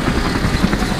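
A camera drone returning over Kundal Dam in Swabi gives off a loud, close, steady propeller buzz for a single second.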